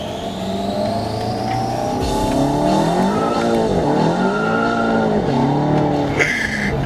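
A VW Golf 7 GTI tuned to 359 kW and 750 Nm revs hard and climbs through the gears while the tyres squeal with wheelspin in third, loud and sustained from inside the vehicle.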